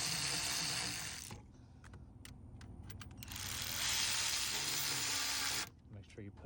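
A hand ratchet tightens bolts on a 2015 Ford Transit 3.7L engine, with bursts of rapid pawl clicking separated by a pause with a few isolated clicks, close up over a steady background hum.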